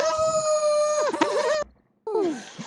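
A person imitates a wolf howl, producing a long, wavering tone that rises and falls, breaks off briefly, and then returns for a shorter, sliding howl.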